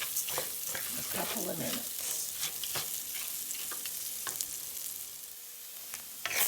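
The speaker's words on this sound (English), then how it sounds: "you're going to stir fry it in the pan for about 2 minutes" Rice and onions sizzle and crackle as they stir-fry in a pan for cranberry risotto, with bursts of stirring scrapes and a brief spoken line over the frying.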